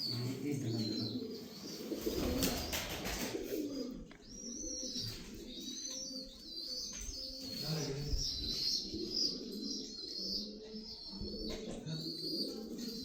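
Sialkoti pigeons in a breeder's loft cooing softly in repeated low calls, with scattered chirps, a brief burst of wing flapping, and bird sounds close by but quiet.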